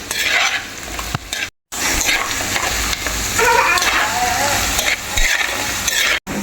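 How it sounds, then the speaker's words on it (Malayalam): Sliced shallots or onions and ginger sautéing in oil in a pan for a coconut milk fish curry, a loud, close, continuous sizzle with scraping stirring sounds and two brief cuts to silence. "നമ്മുടെ ഉള്ളിയും മറ്റുള്ളതും സാധനങ്ങളൊക്കെ മൂത്ത് വന്നിട്ടുണ്ട്."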